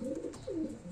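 Pigeons coo inside a coop, two low throaty calls rising and falling over about a second, close and moderately loud with no talking.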